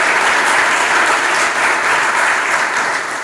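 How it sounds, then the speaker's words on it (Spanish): Audience applause filling an auditorium at the Know Square 2022 awards in Spain, a steady, dense wash of many hands clapping close and loud for the whole stretch, with no voices on top. "Un aplauso"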